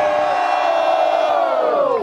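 Spectators at a Brazilian street rap battle yell together in a loud, sustained roar to vote for a third round, the massed shouting dense and continuous from start to finish.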